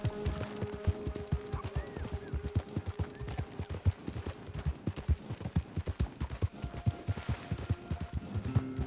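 Rapid, steady clip-clop of horse hooves at a run in a video game, close and prominent, with a faint tonal backdrop and no talking.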